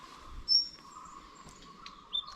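Outdoors on a hillside, a bird gives a few short, sharp chip calls spaced apart against a faint steady insect-like hum, fairly close and clear with no talking.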